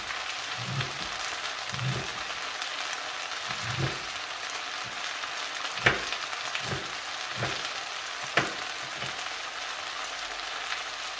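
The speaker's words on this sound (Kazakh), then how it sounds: "қуырылып, бұқтырылып, капуста өзі шөуіп қалады." Cabbage and beetroot frying in a pan give a soft continuous sizzle with periodic low thumps and a few sharp clicks of stirring, moderately close and without speech.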